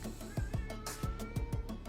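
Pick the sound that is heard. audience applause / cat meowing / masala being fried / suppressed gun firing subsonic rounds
cat meowing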